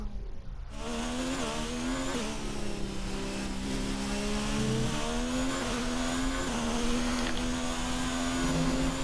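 Formula 1 car engine in the F1 2019 game on the Australia circuit, a loud, steady high-pitched whine that shifts pitch as revs rise and fall, with no talking.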